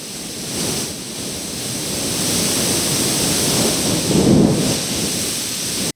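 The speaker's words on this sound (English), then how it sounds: "I need some wind. Guess what does that? Compressed air." A can of compressed air sprays to stand in for wind, producing a steady, loud, broadband hiss that lasts several seconds and then cuts off abruptly.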